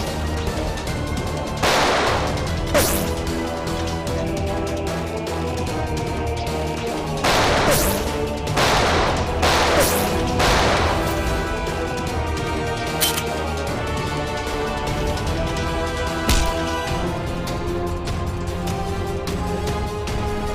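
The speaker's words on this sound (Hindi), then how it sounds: "बहुत जल्द गोलियां खत्म हो जाएगी।" Gunfire crackles in a CID TV crime drama shootout, with repeated bursts and sharp single shots spread across the scene, loud and close, alternating with brief gaps of lower background sound.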